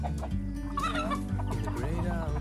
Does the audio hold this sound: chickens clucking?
yes